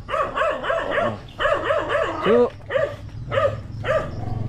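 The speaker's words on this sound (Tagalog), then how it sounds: "ngayon lang tumahol yung aso yun" A dog barks in a series of sharp, close barks with short pauses, the bursts coming in clusters, while a voice is briefly heard.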